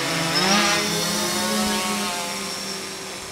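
DJI F550 hexacopter drone with E305 motors hovering in wind, a steady buzzing whine of rotors with harmonic bands, holding fairly constant and easing slightly as throttle drops; close and continuous, no talk.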